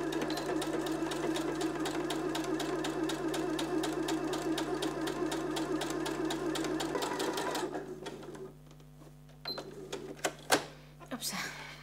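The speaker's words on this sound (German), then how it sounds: "jetzt nähen wir an beiden Seiten knappkantig mit dem Geradstich entlang" Close, steady running of a sewing machine straight-stitching tote bag straps near the edge, then it stops and a few scattered clicks and handling noises follow.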